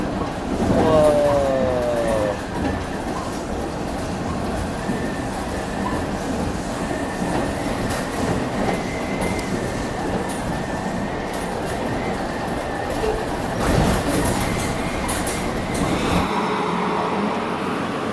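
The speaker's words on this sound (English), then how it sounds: "It's a freight train." A freight train rumbles past steadily with rattling, clanking wagons and a grinding drone, close and loud throughout.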